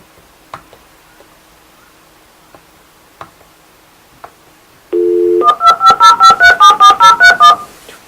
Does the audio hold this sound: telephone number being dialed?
yes